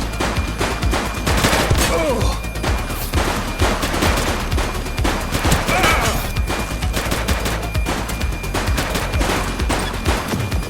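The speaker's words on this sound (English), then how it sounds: "Shots fired!" Rapid bursts of gunfire in the police game The Precinct, loud sustained volleys with some single cracks, continuous across the whole stretch with no voices.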